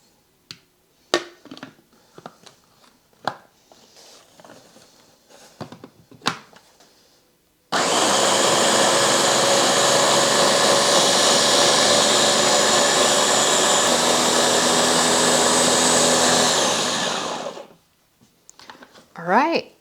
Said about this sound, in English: let's go ahead and cover this and give it a nice blend. My blender is a little too big for this recipe,